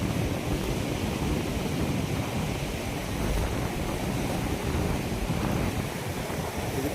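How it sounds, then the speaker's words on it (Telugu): A Himalayan meltwater stream flows in a steady, broad rushing wash, continuous and moderately loud with no voices over it. "ఇది పైన హిమాలయాల నుంచి వాటర్ వస్తూనే ఉందన్నమాట."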